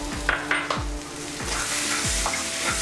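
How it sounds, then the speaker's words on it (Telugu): Pav bhaji mixture sizzles in a hot pan while a spoon stirs it in quick repeated strokes, scraping and clinking against the metal, close and continuous frying underneath. "ఇది మనం బాగా కలుపుకుందాం."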